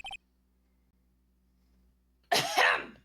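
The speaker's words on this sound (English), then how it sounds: "Maybe I should clear my throat?" A short, sharp throat clearing in the Phoenix Wright: Ace Attorney video game, a quick gruff burst at the start and then a louder, longer throat-clearing rasp after a near-silent pause.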